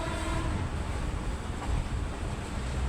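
A passenger train runs on the line toward Dhaka, a steady broad rumbling roar with wind-like rushing, heard from inside a carriage without any voices.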